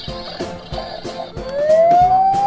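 A toy police car siren wails in repeated cycles, loud and close, with a rising electronic tone toward the end and no voices over it.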